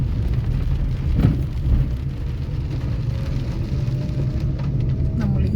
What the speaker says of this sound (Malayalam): അത്ര വലിയ മഴ അല്ലെങ്കിലും പക്ഷെ മഴയാണ്